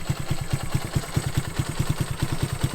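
A 1971 Honda CB100 motorcycle engine idles after a cold start, with a steady, rapid low putter of even firing pulses, close and fairly loud and heard alone.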